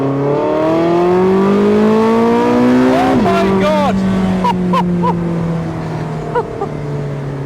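A Porsche 918 Spyder engine roars loudly and revs higher, with a brief gear-change drop, as a voice exclaims over it near the end.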